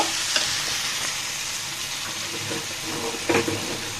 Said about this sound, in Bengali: ভেজে রাখা কলাটা দিয়ে দিলাম দিয়ে নেড়ে চেড়ে দিব